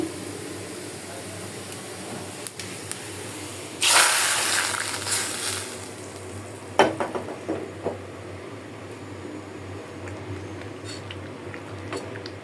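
Nearly cooked thin dal is poured into hot oil for tempering, setting off a loud burst of sizzling hiss. It settles into quieter bubbling, with a few sharp clinks and scrapes of stirring.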